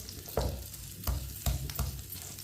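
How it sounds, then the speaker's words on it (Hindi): Dates stir and roast in ghee in a pan for sesame-date laddoos, a soft constant sizzle broken by four scraping spoon strokes at regular intervals, close and moderately quiet. "अब इसे 3-4 मिनट के लिए पका लेते हैं, भून लेते हैं।"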